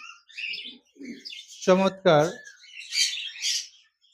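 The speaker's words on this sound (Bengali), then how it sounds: "এখানে দেখতে পাচ্ছেন এক জোড়া জেব্রা ফিন্স পাখি রয়েছে।" A pair of zebra finches gives short, high chirps in quick bursts, some before and some after a brief spoken word from a man nearby.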